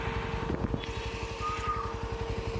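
A motorcycle engine running steadily with a rapid, even low thrum and a slight rise in pitch, close and fairly loud, on a ride at Chukkalagiri hill near Tirumala.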